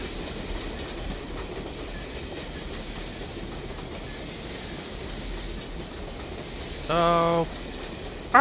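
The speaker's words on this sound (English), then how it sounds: "Speed up the other train!" A train clatters along the rails in the UberSoldier II video game, a steady rumbling clickety-clack that runs throughout, with a brief burst of a different game sound near the end.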